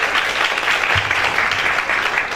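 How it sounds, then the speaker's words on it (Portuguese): Theatre audience applauding in a broad, steady wash of clapping that holds at the same level throughout, close and dense, with a faint low murmur underneath. "Receba os aplausos do público."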